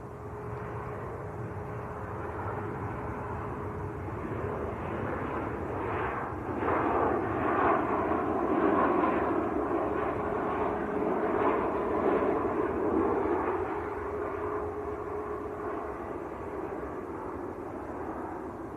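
A Ryanair airliner in from Krakow rumbles on short final into Manchester Airport, a faint distant jet roar that swells in the middle and slowly fades, heard alone without talk.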